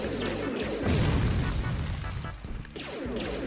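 Destructive Blast, an area-of-effect nuke ability in the game UnConventional, goes off as a loud, dense, rumbling explosion. The roar is sustained and fills the whole moment with crackling debris-like noise.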